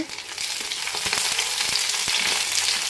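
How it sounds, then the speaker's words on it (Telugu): Masala frying in a pan for palak paneer: a close, steady sizzle crackling throughout, punctuated by sharp scrapes and taps of stirring, with no voices. "ఈ మసాలా అంతా బాగా నీట్గా ఫ్రై చేసుకొని"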